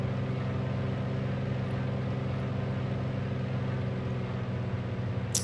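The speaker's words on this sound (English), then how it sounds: "you can really hear the engine as she's sort of backing back down" A Big Radials Goose radial engine in Microsoft Flight Simulator, throttled back to a steady lower drone with layered harmonic throbbing, loud and continuous with no talk.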